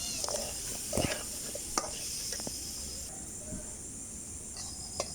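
Vegetables cook in a pan on a home stove for a Bengali meal, giving off a faint, steady sizzling hiss with a few soft clinks of a utensil. It is quiet and continuous, with no talking.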